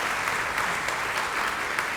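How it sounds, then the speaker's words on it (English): An audience at a school welcome assembly applauds the senior class deans, a steady, even patter of many hands clapping at moderate distance throughout. "we can applaud the group of deans all together"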